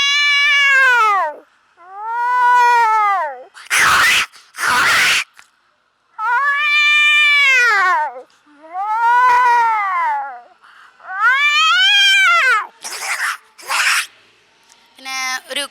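A performer's voice imitates two tomcats fighting at a Kerala school arts festival: loud, close, drawn-out rising and falling yowls alternate with harsh raspy hisses and spits in irregular bursts, with no other talk.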